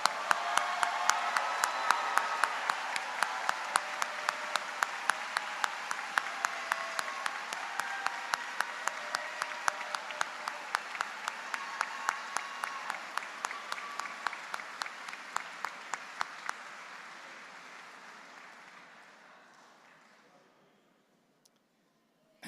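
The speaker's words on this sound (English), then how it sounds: "A big round of applause to all of our Bachelor of Science graduates." Sustained audience applause for graduates at a university engineering commencement ceremony: a broad steady roar of many hands with rhythmic unison clapping running through it, fading away toward the end.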